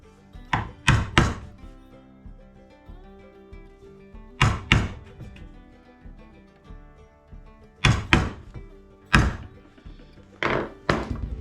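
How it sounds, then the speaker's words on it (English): A chisel chops into a piece of wood set on a workbench in several quick clusters of sharp, close thunks, each group of two or three strikes separated by short pauses. "So there's my mark that I need to chisel it out."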